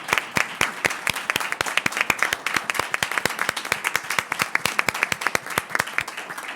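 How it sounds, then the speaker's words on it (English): A small audience claps for psychologists at a school district gathering, the individual claps loud, close and distinct in a brisk, uneven rhythm throughout. "please stand so we can applaud you?"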